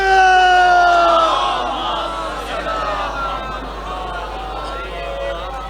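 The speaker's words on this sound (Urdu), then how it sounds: "بلندتر سلوات" A large gathering at a majlis at Darbar Shah Shams in Multan loudly recites salawat in unison in answer to a preacher, a massed chorus of voices that swells at first, then settles into a sustained crowd roar.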